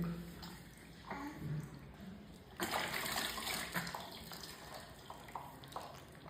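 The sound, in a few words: water splashing during a baby's bath and hair wash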